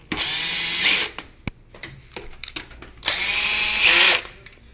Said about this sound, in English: So then I take my drill, I set my drill to the lowest setting because I don't want to break anything, usually 1 or 2, and I come here and I screw it in.